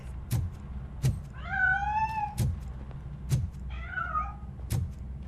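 Cat meowing inside a Robocop Rogue City game level, two drawn-out wavering meows spaced a couple of seconds apart, over a low rumbling background with repeated dull thuds.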